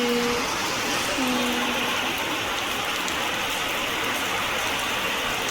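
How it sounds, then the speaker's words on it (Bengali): Steady rain pours down on a stormy night before Eid, a dense and continuous hiss that holds evenly from start to finish. A few faint tonal sounds come through in the first moments. "বৃষ্টি"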